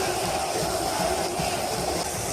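A massed São Paulo stadium crowd chants for player Luan, an unbroken wash of voices that is steady, distant and broad, with no single speaker standing out.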